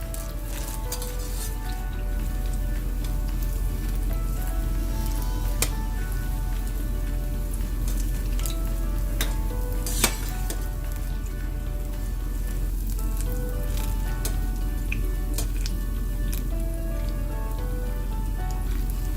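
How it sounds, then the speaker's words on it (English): Mashed baby plantain fritters frying in oil over low-medium heat, a steady dense crackling sizzle that holds at an even level throughout with scattered sharper pops. "I'm gonna make sure these fry on low medium heat"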